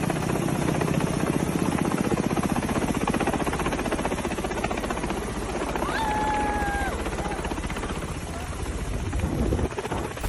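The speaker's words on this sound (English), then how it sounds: "The helicopter was en route to a nearby military airfield." A Ka-52 military attack helicopter passes over a beach, its dense rotor thrum and turbine roar loud and steady throughout, with a faint rising whine partway through.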